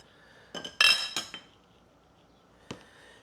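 Pickle slices are packed into glass jars with a few sharp glassy clinks and taps, a quick cluster near the start and one more after a pause, close and clear against a quiet background.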